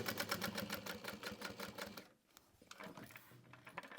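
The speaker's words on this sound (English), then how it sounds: "But I am gonna sew it again." A sewing machine stitches a tote bag in fast, rapid-fire mechanical clatter for about two seconds, stops briefly, then resumes more softly and unevenly, close and fairly quiet.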